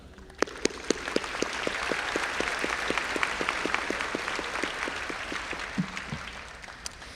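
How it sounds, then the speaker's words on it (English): A high school graduation crowd claps for the parents, with a few sharp individual claps swelling into sustained applause of moderate loudness over about seven seconds. "they deserve a big round of applause for everything they've done"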